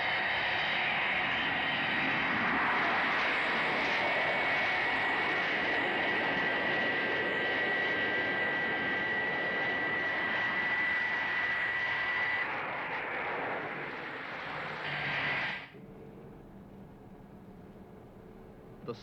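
An airliner in flight gives a loud steady jet roar with a whining tone that holds for about fifteen seconds, then cuts off abruptly to near quiet.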